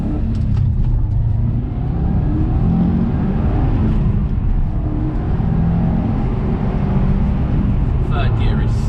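Subaru Impreza WRX STI RB320 limited edition accelerating hard through the gears, a loud, steady engine roar and road rumble heard close from inside the car for several seconds.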